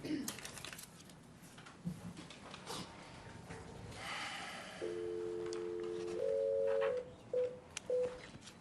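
A call placed from a planning board meeting room rings through a phone line: steady electronic ringback tones repeat after quiet room noise and faint murmuring.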